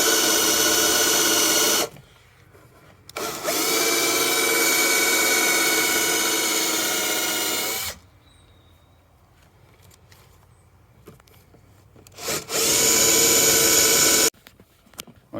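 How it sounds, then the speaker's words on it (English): A power drill whines loudly drilling through a VW Transporter van floor in several long bursts, each several seconds, with brief quiet gaps between them and a short final burst. "Right, so we drilled all the holes now."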